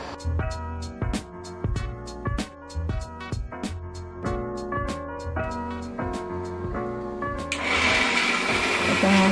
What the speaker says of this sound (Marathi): आता आपण जो आपला कांदा भाजलेला आहे तो त्याच्यात टाकूया आणि परत सगळं वाटून घेऊया.